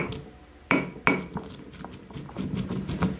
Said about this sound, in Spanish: aquí en el molcajete tengo las demás, más bien las especies, el clavo, el laurel, comino y la pimienta. Lo voy a moler